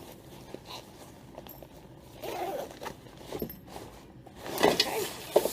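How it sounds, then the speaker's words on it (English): Outer zipper of a film changing bag being closed during loading of 35 mm film into a developing tank: a soft, close zipping drag that grows louder toward the end, with fabric rustles and a few light clicks. "And now I'm going to close my outer zipper."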